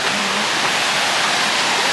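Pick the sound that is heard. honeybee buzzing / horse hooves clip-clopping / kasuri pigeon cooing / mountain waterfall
mountain waterfall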